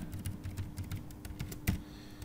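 Typing on a computer keyboard while entering a username and password at a login screen, a quick irregular run of light key clicks with one louder keystroke near the end, close up and with no voice.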